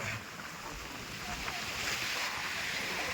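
Sea waves washing in at a shore during a friends' trip, a steady broadband rush of surf with wind buffeting the microphone throughout.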